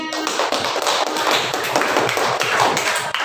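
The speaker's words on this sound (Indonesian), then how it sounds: "tepuk tangan untuk kelompoknya." Children in a classroom clap for a group that has just presented, a dense, loud, continuous burst of many hands close by, with no voices over it.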